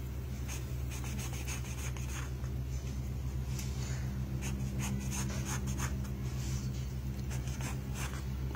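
A pencil scratches and rubs across paper while drawing the beak of a kingfisher, with faint irregular strokes close up over a steady low hum and no talking.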